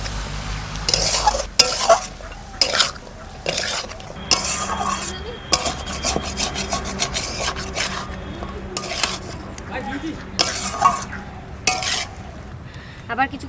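Mustard paste thinned with water is poured over boiled mixed vegetables and potatoes and stirred in a pan, giving steady scraping, rubbing and clinking of a spoon against metal, with brief louder knocks throughout.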